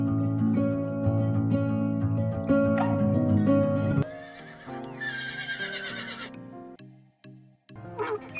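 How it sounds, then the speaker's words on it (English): A horse gives a loud, close whinny with hoof clip-clops mixed in, the call rising and then trailing off into short gaps of quiet. "Horse."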